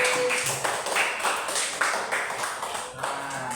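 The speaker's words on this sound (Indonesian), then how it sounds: "tepuk tangan buat Bilkis" Scattered classroom clapping for a student, many hands tapping unevenly in a brief round of applause, moderately loud and close.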